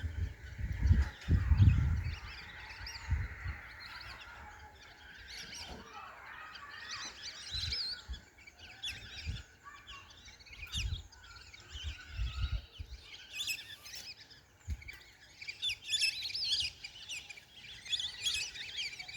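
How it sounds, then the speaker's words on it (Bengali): A flock of lesser whistling ducks on a pond calls with many thin, whistling chirps scattered throughout, fairly distant, over a low rumble with a few heavier thumps near the start. "এগুলোকে আমরা আঞ্চলিক ভাষায় বালি হাঁস বলে থাকি"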